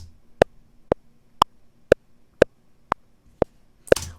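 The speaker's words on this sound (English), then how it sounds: "We have made a simple click that sounds like this." A metronome click track ticks steadily, eight sharp clicks about half a second apart, crisp and isolated against near silence.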